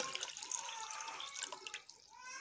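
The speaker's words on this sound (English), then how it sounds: "Pour water first before caustic soda" About 750 ml of water poured into a bucket to make lye for laundry soap, a close, splashy stream with dripping bursts that eases off toward the end.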